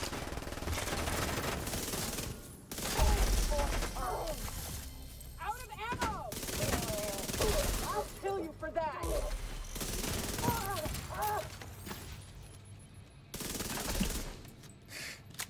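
Rapid video game gunfire in a wave-based shooter where enemies respawn, bursts of automatic shots repeating in clusters throughout, with players talking over the shooting.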